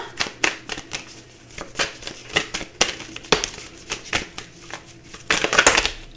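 Tarot cards riffled and shuffled repeatedly in quick bursts, close by, with brief pauses between shuffles and a busier flurry near the end.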